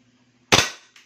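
An EC 21015.1R Hi Capa airsoft pistol firing BBs, giving one sharp, loud snap with a short ringing decay and a faint click just after, in a quiet room.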